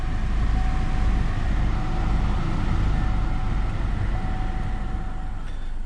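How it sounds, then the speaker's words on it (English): A 2010 Chevy Equinox blower motor runs steadily inside the car, a loud continuous airy whoosh with a faint whine holding level throughout and no talk. "All right, got the blower motor working."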